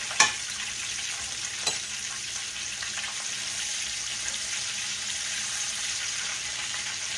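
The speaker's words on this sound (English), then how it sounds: "It's frying up really, really good." Catfish and hush puppies frying in hot oil, a steady loud sizzle with a couple of sharp clinks near the start.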